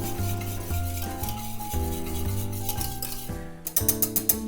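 Worcestershire sauce and white wine being whisked in a pan, a quick metallic whisk rattling and scraping against the metal in a steady rhythm, ending in a few bright clinks, close and without voices.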